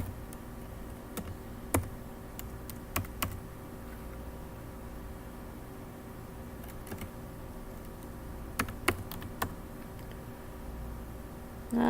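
Name typed on a computer keyboard, scattered sharp key clicks in small bursts over a low steady background hum, close and fairly faint, no talking.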